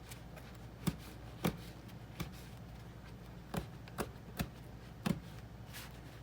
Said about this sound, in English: I'm going to dice up a few almonds.